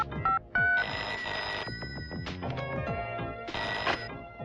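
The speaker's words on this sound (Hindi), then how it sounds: "मैं टेलीफोन करके चेक कर लेता हूँ।" Old-style telephone bell ringing in two loud bursts with a pause between them, heard over a movie soundtrack with background music and thumps.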